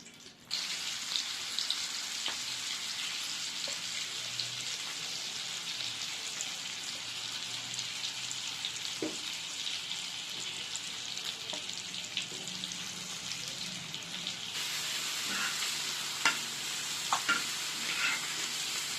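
Fried egg bajji frying in hot oil, a continuous crackling sizzle with scattered small pops and occasional faint clicks, steady and close throughout with no speech.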